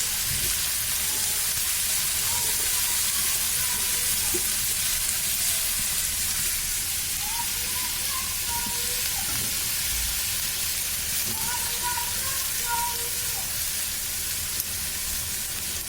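Vegetables frying with green chili in a pan, giving a steady soft sizzle and hiss throughout with faint crackles, close by and with no one talking.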